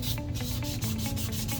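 Textured hexagon trumpet surface being sanded by hand, a quick series of rhythmic rubbing strokes, close and fairly quiet, with no talking.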